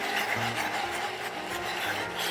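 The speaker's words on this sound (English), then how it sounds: "And now I'm just going to scrub in circular motion." Foamy carpet cleaner scrubbed into carpet in circular motions, giving a steady, close rubbing and rasping sound that runs without a break under no talk.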